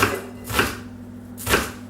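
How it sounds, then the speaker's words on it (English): A knife chops peeled food into small slices on a board, three sharp, close cuts spaced roughly half a second and a second apart, with quiet pauses between them. "I'm just going to chop it as finely as I can. So quite roughly, just into little slices both ways."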